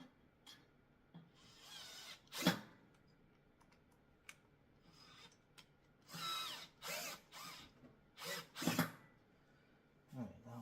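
A power drill drives screws into a stair stepper machine in a series of short, quiet whirring bursts separated by pauses, with faint clicks and handling sounds between them.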